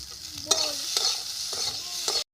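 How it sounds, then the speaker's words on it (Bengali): Amla (Indian gooseberry) pickle stirred in a pan over low heat: a spoon scrapes and knocks against the pan in a few distinct strokes over a soft steady sizzle, close and clear. "এবার ভালো করে নেড়ে নিতে হবে"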